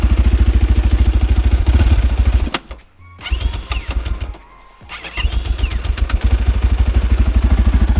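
Enduro motorcycle engine with a PWK 34 carburetor running close by, a loud rapid popping idle that briefly cuts out twice before catching again and settling back into its steady beat.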